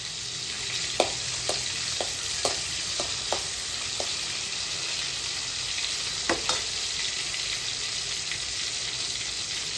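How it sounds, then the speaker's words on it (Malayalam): Fish roasting with meat masala in a pan gives a steady, fairly soft frying hiss, with a few light taps of a utensil and a brief louder scrape near the middle, no one speaking. "മീറ്റ് മസാലയൊക്കെ കൂടി കൂടി കൊടുത്ത് അടിപൊളിയായിട്ട് ഒന്ന് റോസ്റ്റ് ചെയ്തെടുക്കാം"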